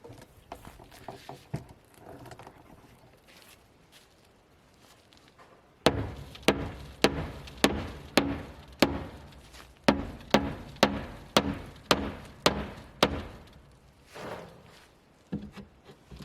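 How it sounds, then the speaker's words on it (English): A hammer strikes the underside of a wooden rabbit hutch frame, giving a quick run of about a dozen sharp, loud knocks in a steady rhythm, with quieter handling and scraping before and after. "Got a hammer. I'll try to hit it from the underside, see if I can pop it up."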